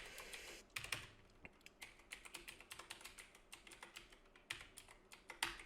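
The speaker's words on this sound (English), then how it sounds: "we're just going to go ahead and type in" Typing on a computer keyboard, a quiet run of quick, close key clicks in an uneven rhythm with short pauses and a few louder taps, with no one talking.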